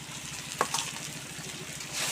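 Small fish tipped into a pan of cabbage curry frying in spices, making a steady loud sizzle and hiss with a brief sharp crackle as the fish lands and the sizzle swelling toward the end.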